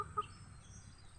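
A chicken gives a single short cluck, faint and brief, over low background rumble.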